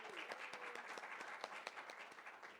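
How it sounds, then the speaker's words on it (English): A faint round of applause from a conference audience at an afternoon heritage session in Santa Fe, scattered hand claps blending into a soft continuous patter for a couple of seconds. "I want to just have a little round of applause for our sponsors."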